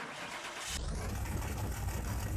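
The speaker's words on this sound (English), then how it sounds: "let's get it started and see what this small block V8 sounds like in our Bolt Mosquito." A small block V8 in a Bolt Mosquito in Car Mechanic Simulator cranks and catches, then settles into a loud, deep, lumpy idle that rumbles steadily and close.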